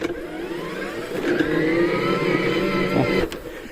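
A cordless battery-powered self-propelled lawn mower drives forward with a steady electric motor whir that rises and holds, loud and close, with a brief dip near the end and no talking.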